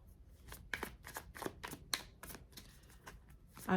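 Tarot cards are shuffled and handled in a quick series of papery riffles and soft slaps, close and fairly quiet, with no voice.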